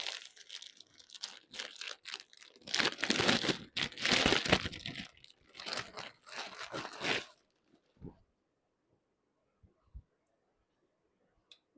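Plastic packaging of a kurti combo pack crinkling and tearing open up close, loud rustling for about seven seconds before dropping to near silence with a few faint taps.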